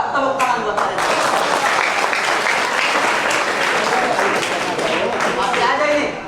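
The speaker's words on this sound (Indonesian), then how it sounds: "Tepuk tangan buat kalian." Audience applause in a Ramadan dawn lecture hall, dense and steady for about six seconds with some voices mixed in underneath.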